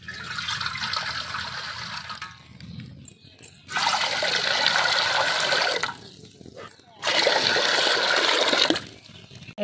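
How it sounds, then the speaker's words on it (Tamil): Water pours and splashes into a pot in three separate bursts with short quiet gaps between them. "தண்ணி ஊற்றிக்கலாம்."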